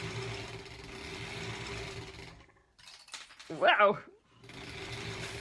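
A sewing machine stitches a quilt-as-you-go block with a 1/4 inch seam allowance, its steady mechanical whir running before and after a short pause in which a voice briefly exclaims.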